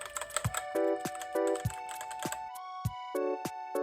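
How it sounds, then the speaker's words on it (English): Clicky key presses on a Redragon K530 Pro Draconic mechanical keyboard, a dozen or so crisp, close taps at an uneven typing pace, with a steady electronic tone sounding between the strokes. "The keys make a pretty clicky sound."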